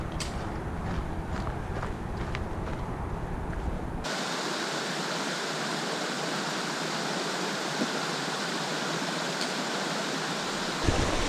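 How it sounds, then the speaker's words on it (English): Steady broadband rush of a waterfall beside the hiking trail to Lonesome Lake Hut in New Hampshire's White Mountains, loud and close, growing fuller after a few seconds as the water is approached, with a few faint footsteps early on. "This waterfall looks pretty"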